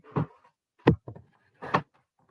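Several loud, heavy thuds close by, spaced irregularly with short quiet gaps, of a border maker paper punch slamming down on a desk.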